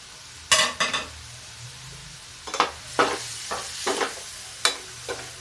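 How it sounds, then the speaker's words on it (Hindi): Curry leaves dropped into hot oil already holding asafoetida, crackling in a handful of sharp sizzling bursts with quieter gaps of low simmering between them, close up and with no talking. "अब देखिए डालते हैं थोड़ा सा ये करी पत्ता"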